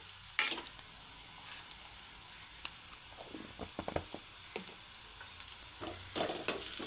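A spoon stirs ginger garlic paste and turmeric into browned onions frying in a pan for a brain fry dish, with soft sizzling under scattered scraping and clinking strokes, close and fairly quiet.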